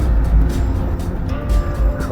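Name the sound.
car engine at a car show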